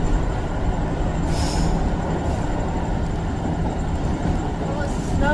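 A Northern train pulls through Doncaster station, with a steady rolling rumble, faint wheel squeals and clicks over the rails, heard from on board and continuous.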